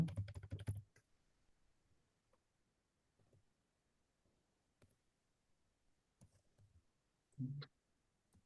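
A quick close burst of computer keyboard typing while JavaScript code is written, then near silence broken by scattered faint keystrokes and clicks and one short louder cluster near the end, with no speech.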